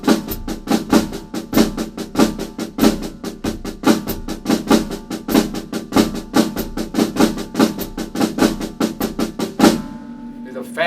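Slow drum set pattern of triplets with flams on every note, played as a steady run of doubled strokes with cymbal wash, close and loud, ending abruptly in a brief ringing decay.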